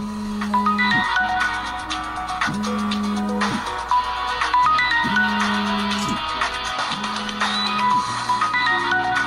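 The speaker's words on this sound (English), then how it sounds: "The loud noise of my new phone ringing and vibrating on the bed" A mobile phone lying on a bed rings with a repeating electronic melody, loud and close, with a low buzzing vibration pulsing in regular bursts beneath it.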